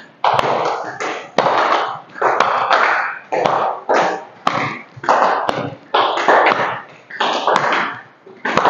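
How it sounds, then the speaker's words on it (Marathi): Hands clapping in front of and then behind the body during a standing yoga-style arm-swing exercise: a steady, loud series of sharp slaps repeating roughly every half second, alone without talk. "समोर टाळी, मागे टाळी."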